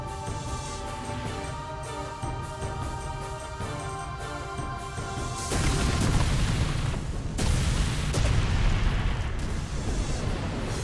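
Repeating explosion in Final Fantasy X at Zanarkand, a loud, sustained rumbling blast that surges again partway through over steady game music.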